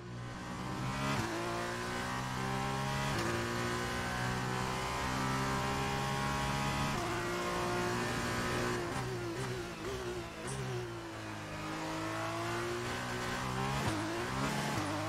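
An F1 2019 video game car heads onto the track in a Formula 2 career, its engine whining in steady stepped gear-change harmonics that rise and drop repeatedly, loud and continuous with no speech.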